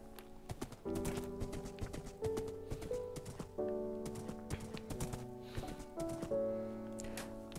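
Hooves clip-clop from a horse in the video game Minecraft, with a few whinny-like tonal calls over a steady background of game music or ambience. No one speaks.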